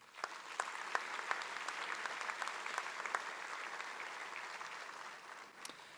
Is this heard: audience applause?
yes